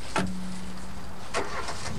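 A car drives near the restored Evercreech Junction station, now a car park beside a superstore, over the Mendips. Two brief passing swooshes come through a steady low hum, with no talk.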